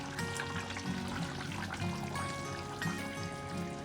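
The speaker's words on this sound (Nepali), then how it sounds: "अब म तातो पानी थोरै थोप्छु है त।" A little hot water poured into a pot of buffalo meat and potato curry, a soft continuous trickle with a faint sizzle and bubbling from the cooking pot.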